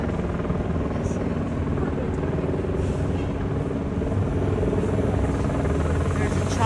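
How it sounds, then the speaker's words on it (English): A helicopter hovers over a street demonstration in Los Angeles, its steady rumbling rotor drone filling the air continuously beneath crowd noise and voices. "There's a chopper. Guys, there's a chopper over there"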